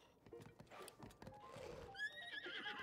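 A horse in Zelda: Tears of the Kingdom clops upward over rough ground, then lets out a bright, wavering whinny near the end, close and moderately loud.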